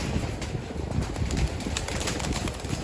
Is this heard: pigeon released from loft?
yes